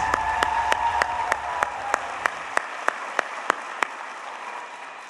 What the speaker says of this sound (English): Let's give one more round of applause for Sonora Williams.